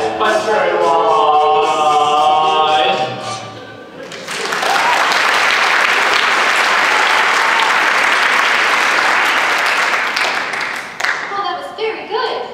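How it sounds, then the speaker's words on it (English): An audience at a high school stage production of Alice claps loudly in a dense, steady burst of applause lasting several seconds, with a voice speaking briefly before it and again as it fades. "we should thank you for applauding"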